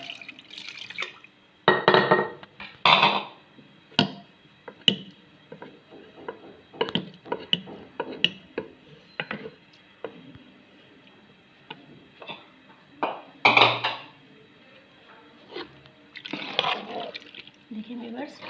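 Water is poured into a single pot of chicken daleem in a home kitchen, producing intermittent splashes, drips and small clinks in short bursts separated by quiet gaps.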